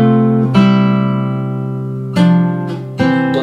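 Fingerstyle guitar plays a chord with C in the bass followed by a descending line, from the chorus of a song, with three clear plucked attacks ringing out cleanly with no voices.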